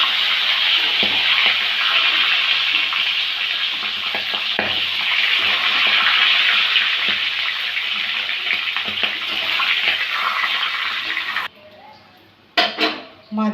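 Pangas fish pieces frying in oil produce a loud, continuous hiss and crackle for about eleven seconds, which drops away abruptly into a few clinks of utensils near the end.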